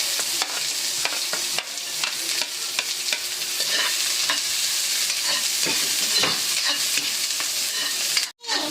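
Garlic and onion sizzle steadily in a hot pan, with intermittent stirring scrapes and clatters throughout, loud and close, while the monggo with tinapa dish is being cooked.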